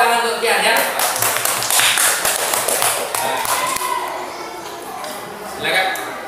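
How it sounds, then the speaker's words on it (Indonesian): Children clapping in a classroom for a classmate called to the front, a scattered, uneven patter of small hands over about six seconds with some chatter underneath. "Tepuk tangan untuk Tian ya."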